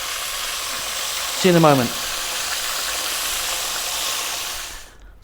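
Fish frying in hot oil for a second batch, a steady broadband sizzle running throughout, with a brief voiced phrase spoken over it partway and the frying cutting off abruptly at the end.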